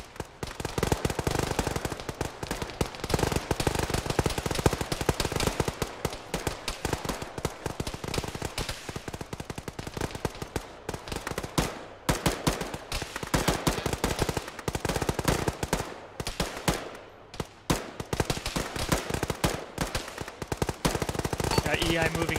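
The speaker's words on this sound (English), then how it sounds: "Shoot the tires out now!" Rapid bursts of automatic gunfire fill a military shooter game firefight as a squad shoots out vehicle tires, loud and nearly continuous with dense overlapping shots and brief lulls, with faint voices under the din.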